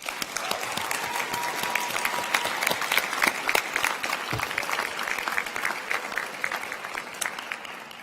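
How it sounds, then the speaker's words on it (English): An audience at a 2019 medical student commencement ceremony applauds, with dense, sustained clapping that carries evenly at moderate volume throughout. "Please give them a round of applause."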